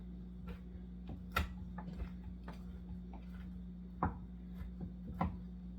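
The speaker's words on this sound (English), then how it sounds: "I'm just going to go on and put another chop across it here" A knife chops on a cutting board while a breakfast casserole is prepared, giving a handful of sharp, irregularly spaced taps over a steady low hum, close and fairly faint.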